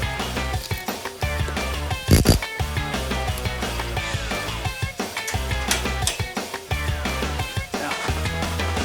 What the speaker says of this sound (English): I just used a ratchet strap to really pull my ladder down.